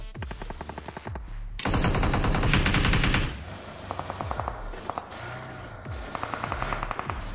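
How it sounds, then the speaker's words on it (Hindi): BGMI (Battlegrounds Mobile India) gunfire: loud close automatic bursts with a sustained rapid stretch in the middle, then more rhythmic rattling bursts, with no talk. "अब आगे की तरफ से बड़ी देर से गोली चलने की आवाज आ रही थी"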